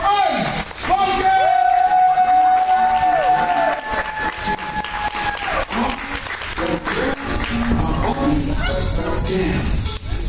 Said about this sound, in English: Clap it up for Ybor!